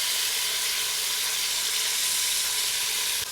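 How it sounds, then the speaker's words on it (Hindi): Mutton frying in a pan with onions, ginger and garlic paste gives a loud, steady sizzle that holds without a break, and no voices cut in. "इसमें आप 1 टेबल स्पून अदरक लहसुन डाल दें और इसको फ्राई करें"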